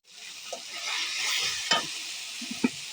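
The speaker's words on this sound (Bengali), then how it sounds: "টমেটো কষাইতেছি" Tomatoes fry steadily in a pan with a bright, continuous sizzle, punctuated by a few soft stirring knocks of a utensil against the pan.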